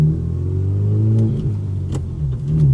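A close car engine rumbles and rises steadily as it accelerates, with a brief dip in pitch around a gear change before the revs climb again, loud and continuous.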